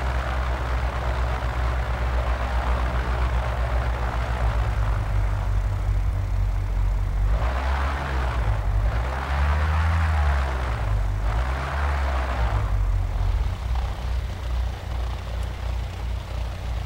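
Continuous propeller aircraft engine drone in Microsoft Flight Simulator 2004 during a landing approach, steady and loud with low rumbling harmonics that rise and fall as power shifts, no talking.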